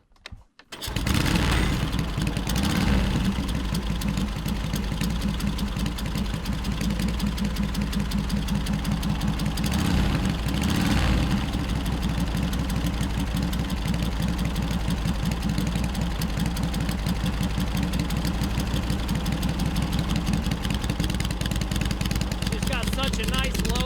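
An Indian Speed King motorcycle engine with big old cams catches after a brief crank, then idles loud and steady at close range with a rhythmic mechanical clatter, a voice occasionally talking over it.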